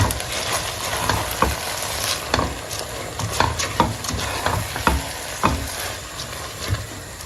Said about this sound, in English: Let's go ahead and add our rice. We'll go ahead and stir it in.